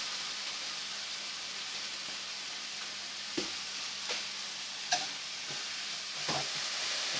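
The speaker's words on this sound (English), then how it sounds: "And go ahead and put the ground pork in" Ground pork fries in a pan for bánh cuốn filling with a steady, hissing sizzle, broken by a few sharp scrapes and taps of a spatula being stirred through.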